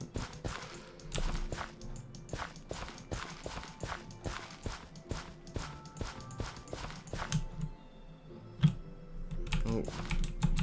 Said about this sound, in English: It's because it's a mechanical keyboard by Razer.